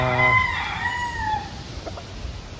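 A rooster lets out a loud crow close by, trailing off into softer clucking from chickens in a quiet farm yard.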